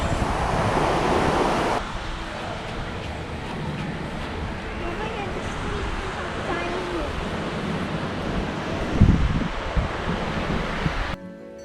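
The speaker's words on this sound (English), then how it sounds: "So we are finally walking through the white sands of Palolem beach." Surf rolls steadily onto the white sands of Palolem beach in South Goa, a constant wash of waves mixed with wind buffeting the microphone and a brief louder surge near the end.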